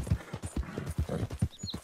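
Rhythmic hoofbeats of a horse galloping in Red Dead Redemption 2, a steady clip-clop cadence of thuds close by, with a faint high whinny-like tone near the end.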